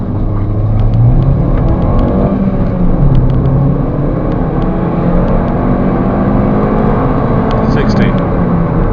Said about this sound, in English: I'm going to give a 0 to 60 test now. 0, 1, 2, 3, go.